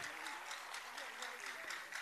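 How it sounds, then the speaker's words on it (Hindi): Faint, steady applause from an audience at a World Disability Day ceremony honouring high-school students from a school for visually impaired boys, with a voice audible over the continuous clapping. "एक बार जोरदार तालियां।"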